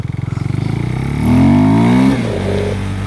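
During wheelie practice a motorcycle engine putters, then revs up hard and rises to a loud sustained roar before easing off. It is close and prominent.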